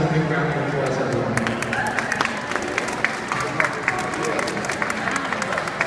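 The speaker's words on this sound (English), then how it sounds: "Let's give a big round of applause, everyone." Audience applause at a Bronx press conference on a domestic violence jobs program, a steady wash of many hands clapping with scattered sharper claps, mingled with crowd murmur and voices throughout.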